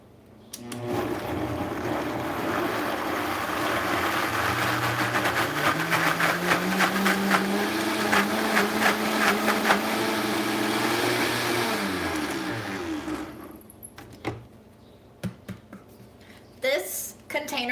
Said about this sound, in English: This container also creates a lot of air pockets so that things don't actually get blended.